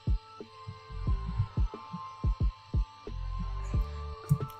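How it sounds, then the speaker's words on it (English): A robot sound effect dropped into a Final Cut Pro X edit: a run of low, thudding mechanical pulses and whirring hums, repeating in an uneven rhythm, close and moderately loud with no voices. "So I got this robot sound effect from on YouTube"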